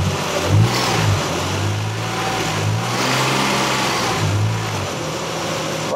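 A Nissan Xterra with a 3.3 engine and newly installed main and rod bearings revs up to around 3,000 RPM and back down in a couple of swells, a steady mid-pitched engine drone recorded close with no rattling evident.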